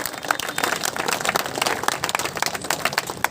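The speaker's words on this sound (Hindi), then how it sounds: "जोरदार तालियों से स्वागत।" An audience at a BJP youth gathering in Nawalgarh claps warmly to welcome a guest, a dense run of many hands clapping at close range throughout.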